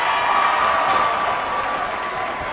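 A capacity crowd at a WWE NXT wrestling match roars and applauds in a large venue, a dense, continuous wash of cheering noise throughout.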